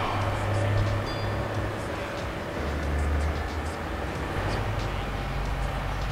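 A train rumbling past in the video game GTA 3, a continuous low droning roll with rising and falling hum, heard beneath steady background game noise.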